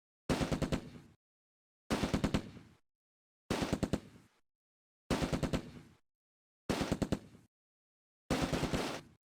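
Gunfire in the video game Close Combat A Bridge Too Far, six evenly spaced loud bursts of rapid automatic fire, each about a second long with silence between.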